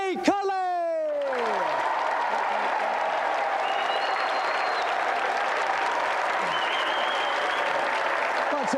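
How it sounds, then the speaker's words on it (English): A television game show studio audience bursts into sustained applause for the challenger and the champion, starting just after a whooshing musical sting and holding loud and even throughout, with faint cheers mixed in. "a round of applause for our challenger"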